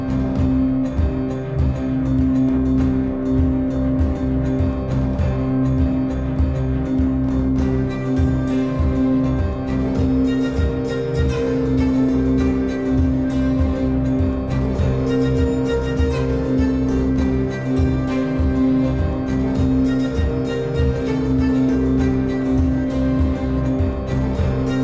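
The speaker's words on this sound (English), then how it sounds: "we're inside the cab of the compass now and we're getting ready to drive out next to the lake" Jeep Compass heard from inside the cab while driving off-road beside a lake: a steady, close low engine and road rumble with light bumps and rattles throughout, no speech.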